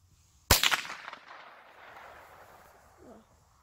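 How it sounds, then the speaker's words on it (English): A single loud, close gunshot from a Ruger 10/22 rifle firing CCI Mini-Mag rounds at an outdoor range, a sharp crack with a brief echoing decay and quiet ambience after. "I have a Ruger 1022 and we're going to be shooting CCI mini mags."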